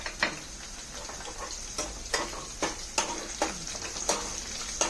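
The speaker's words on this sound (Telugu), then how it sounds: "గోధుమ రంగు వచ్చే వరకు బాగా వేపుకోండి." Garlic fries in oil in a pan for a garlic chilli chutney, a constant sizzle broken by regular sharp scraping strokes of a spoon or spatula, close and fairly loud.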